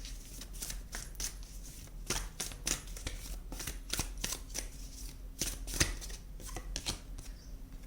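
Tarot cards are shuffled by hand in a quiet room, giving soft, irregular riffles and flicks that repeat for several seconds, close and fairly faint with no talk.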